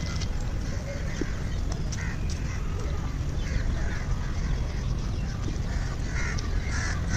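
Ducks or geese call in short scattered honks and quacks over a steady outdoor background, some near and some farther off, while faint voices murmur nearby.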